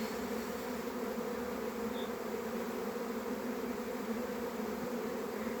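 A honey bee swarm hums outside an empty hive as the bees fly in, a dense, steady buzzing drone filling the air without a break.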